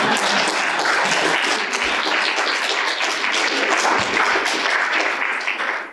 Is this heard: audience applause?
yes